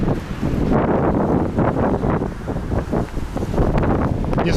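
Loud gusty wind roaring across the microphone on a cold winter day in Alanya, continuous rumbling buffeting with rising and falling gusts, no speech.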